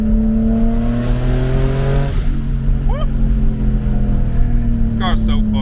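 A turbocharged BMW E36 accelerates hard under boost, the engine note climbing steadily through the revs, loud and close from inside the car, with brief whistling and chirping noises near the end.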